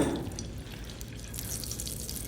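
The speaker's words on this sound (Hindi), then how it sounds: "यहाँ तवे के ऊपर डालना है अपना देसी घी" Desi ghee hits a hot tawa griddle with a soft, steady sizzle that runs unbroken for a couple of seconds, a low, close crackle and hiss with no voices.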